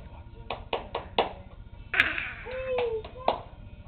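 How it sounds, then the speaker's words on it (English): A small child claps her hands in a few separate quick claps, close by, with a brief squeal or vocal sound in the middle and a bit of other voice, followed by a couple more claps. "Well, I got you on film clapping."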